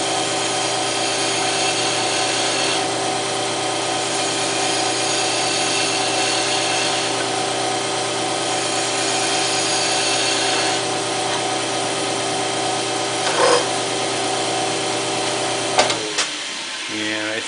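A wood lathe spins an aluminum mandrel as it is turned down to size, giving a steady loud motor hum with a metallic cutting whine that runs throughout, then stops near the end with a few clanks.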